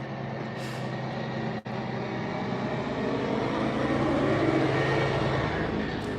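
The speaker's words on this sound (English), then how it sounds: "another loud truck" A loud truck roars past outside with a steady broadband rumble and hiss that swells slightly toward the end, with a brief dropout partway through and no voices.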